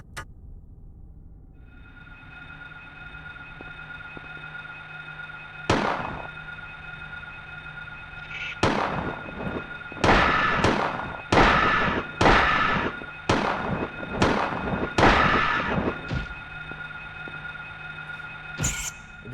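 Pistol shots in the 1999 Silent Hill video game: about nine sharp, loud cracks fire at uneven intervals over a steady tonal hum, clustering into a quick run in the middle.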